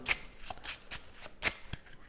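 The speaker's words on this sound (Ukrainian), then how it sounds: "розкладаю карти" Tarot-style fortune-telling cards are shuffled and laid out, a quick series of crisp flicks and soft slaps, close and alone.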